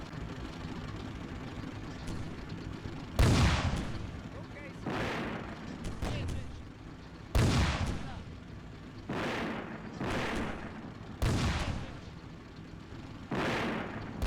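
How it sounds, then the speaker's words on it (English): Artillery bombardment in the Combat Mission Beyond Overlord war game: heavy shell explosions boom at irregular intervals of a few seconds, each with a rumbling decay, over a steady low battlefield drone. "This is the area that we're bombarding here."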